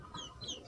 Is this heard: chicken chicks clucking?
yes